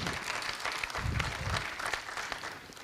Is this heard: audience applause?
yes